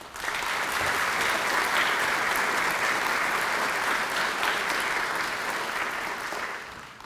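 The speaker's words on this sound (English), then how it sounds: "take a second to applaud those who have given their full career" Sustained applause from a sizable crowd at a police department awards ceremony, steady and loud for the whole stretch, with dense overlapping clapping and no talk over it.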